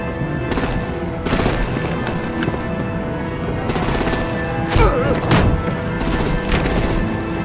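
Heavy automatic gunfire from Batman: The Enemy Within rattles in sustained bursts with a few sharper blasts, loud and close, punctuated by brief gaps between volleys.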